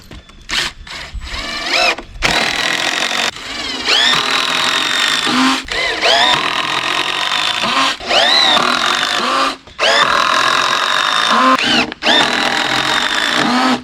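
A power drill drives a lag screw into a wooden brace with long, loud, straining whines that rise and fall in pitch, close by. Short starts come first, then sustained runs with brief gaps between them.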